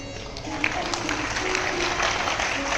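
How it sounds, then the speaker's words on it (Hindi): Audience clapping steadily at a Bhagwat Katha religious discourse, a dense, continuous round of applause filling the whole stretch with a faint tonal hum beneath. "ताली तो बजा रहे हो"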